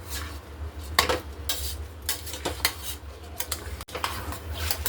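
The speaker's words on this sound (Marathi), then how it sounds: "आता हे तांदूळ या पूर्ण भाज्यामध्ये व्यवस्थित मिक्स करून घ्यायचे" A spoon mixes soaked basmati rice into vegetables in a pot with steady scraping strokes and light metallic clinks in an uneven rhythm. A low kitchen hum sits underneath.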